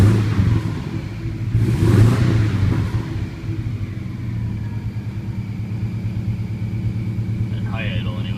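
Engine of a 1999 Subaru Forester fitted with a swapped WRX engine running at high idle, a steady close rumble with a brief surge in revs early on, then holding smooth and even.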